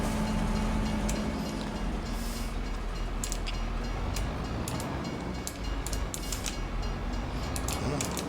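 Train passing in the farming video game Farming Simulator 25, a steady rolling rumble with repeated clacks of wagons on rails, continuous and moderately loud, while a voice talks over it.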